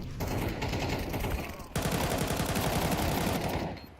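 Rapid automatic gunfire rattles continuously in a Counter Strike 2 collegiate match, a dense loud burst, a brief dip, then another sustained volley before it cuts off.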